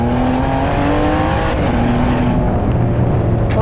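A Ferrari 599 accelerates on a track with a loud, steady engine note that rises in pitch, then eases briefly as the car shifts into the next gear.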